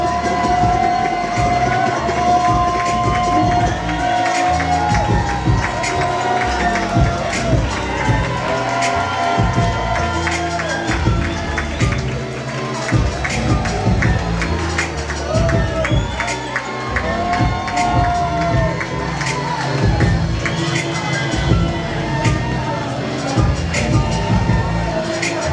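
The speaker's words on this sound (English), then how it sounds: "Applause, please." A pageant audience cheers and applauds for a contestant, a dense, steady roar of claps and shouts that fills the room continuously without pause.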